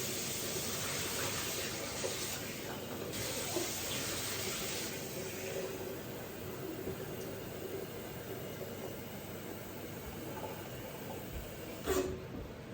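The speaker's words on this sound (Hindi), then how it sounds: "पैन को धो के जी चाय के लिए केटल में डाल देते हैं कुछ पानी" Kitchen tap water runs steadily while a pan is washed and a kettle is filled for tea, a continuous close hiss throughout with a short clatter near the end.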